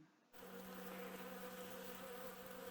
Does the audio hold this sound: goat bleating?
no